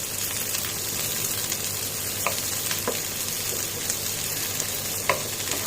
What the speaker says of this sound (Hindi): हमें 3-4 मिनट प्याज को अच्छे से ब्राउन होने तक थोड़ा फ्राई कर लेंगे।